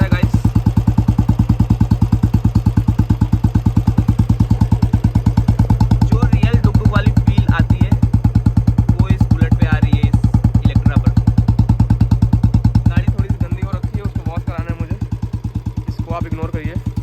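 Royal Enfield motorcycle fitted with an HKK Indori exhaust idles close by, a steady deep thumping beat with heavy bass that continues throughout, with some clattering and faint voices partway through.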